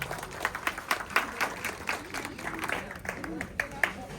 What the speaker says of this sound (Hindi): सबसे पहले इनके लिए हम सभी लोग जोरदार तालियों के साथ इनका स्वागत करें